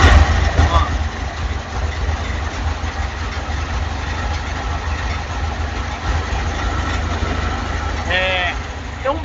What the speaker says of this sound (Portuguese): Tem um barulhinho, tipo uma lata vibrando